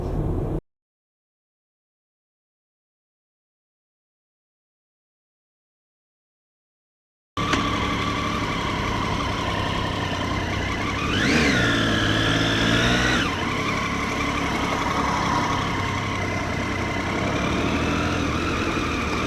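A Triumph Street Triple motorcycle runs steadily after a silent gap, then its engine revs up in one rising-and-falling sweep before settling back to a constant drone, loud and close with no talk.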